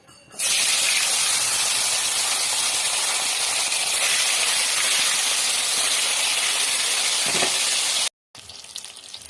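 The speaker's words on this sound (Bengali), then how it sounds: "আর এক এক করে তেলে দিচ্ছি।" Small fish coated in salt and turmeric dropped into hot oil, a loud, continuous hissing sizzle that starts abruptly, holds steady, then cuts out near the end.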